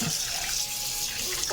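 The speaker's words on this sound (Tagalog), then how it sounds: "Hinugasan ko na nga itong chicken breast part." Tap water runs over raw chicken breast as it is rinsed, producing a steady, close splashing stream with no pauses.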